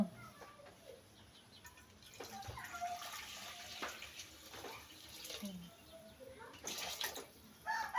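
Clean water splashes and trickles over freshly picked vegetables in a basin, a steady close wash with occasional louder gushes and faint birdsong in the background, no talking.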